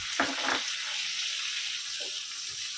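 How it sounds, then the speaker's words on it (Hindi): Onions frying in a pan with salt give a brief, steady close hiss with a couple of soft clatters near the start. "प्याज डालेंगे, प्याज डालेंगे, प्याज के साथ नमक डालेंगे"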